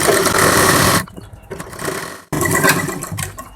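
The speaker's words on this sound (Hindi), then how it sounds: "इसको फोल्ड करके इस पे भी सिलाई लगाएंगे।" A sewing machine runs in two bursts of steady stitching on a folded puff sleeve for a suit, with a short pause between them.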